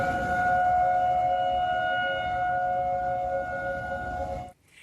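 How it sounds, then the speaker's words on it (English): A distant tornado siren in Omaha, Nebraska wails in a long steady tone, holding for several seconds before cutting off abruptly at the end. "And that's the eerie sound of tornado sirens going off in Omaha, Nebraska early this morning."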